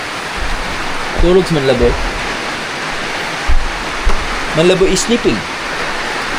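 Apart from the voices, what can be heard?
very heavy rain pouring during typhoon Basyang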